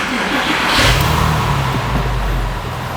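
A Porsche 996 Carrera 4, converted to two-wheel drive, pulls away with a loud, close engine note that builds through a brief rev and then settles into a steady drone.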